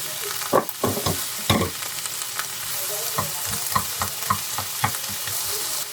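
Shrimp stir-frying in a pan for cream cheese rosé pasta: a steady close sizzle of frying, broken by irregular utensil scrapes and clacks as the pan is stirred, with no voices.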